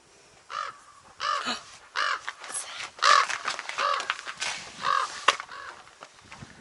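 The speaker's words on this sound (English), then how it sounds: "Did you hear the crow go caw-caw?" A crow at Cathedral Gorge State Park, Nevada, caws repeatedly, harsh calls spaced about a second apart, fairly close and loud against a quiet outdoor background.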